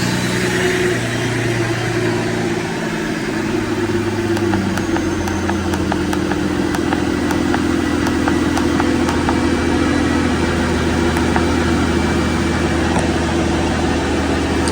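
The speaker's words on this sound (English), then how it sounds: "Very smooth engine, this one, very smooth." A Mercedes S600 engine idles smoothly and steadily after a service with new belts, a continuous low hum with a faint high whine, close by and with no talk.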